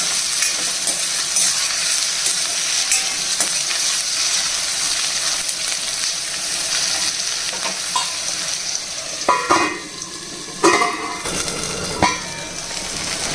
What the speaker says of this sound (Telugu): రెండు రెమ్మలు కరివేపాకు కూడా వేసి బాగా కలిపేసిన తర్వాత ఉల్లిపాయ ముక్కలు బాగా మెత్తపడేంత వరకు వేయించాలండి